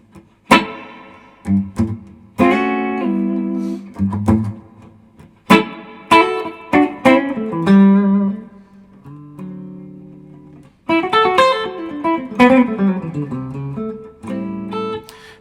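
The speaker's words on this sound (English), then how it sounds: "it just makes you play differently having that reverb in there" Electric guitar through a Fractal FM3 reverb plays sparse phrases and chords, each note ringing out with a lingering reverb tail into short pauses before the next run.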